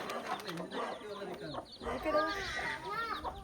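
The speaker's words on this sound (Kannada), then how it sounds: "ಕೋಳಿ ಮರಿಗಳಿವೆ ನೋಡಿ" High chirping and clucking from young chickens, fairly close, continuing through the clip with some talking mixed in.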